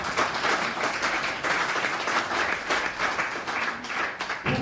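Loud applause from an audience at a conference in Abidjan, close, dense clapping that swells and dips in waves over about five seconds, with a soft thump at the very end.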